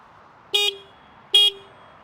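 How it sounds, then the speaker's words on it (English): A CFMOTO 675SS motorcycle sounds its horn twice, two short, sharp, evenly spaced honks close by against a quiet background. "the motorcycle flashes its lights and honks the horn."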